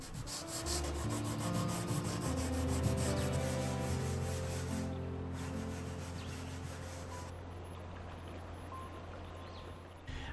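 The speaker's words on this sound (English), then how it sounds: "As I continued to sand this piece by hand" Hand sanding on a wooden dresser, a steady close rasping rub that keeps going with little change in level, and a brief shift partway through.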